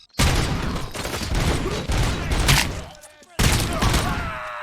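Heavy bursts of gunfire in the RoboCop: Rogue City video game, loud and close, with two long volleys separated by a brief near-silent gap.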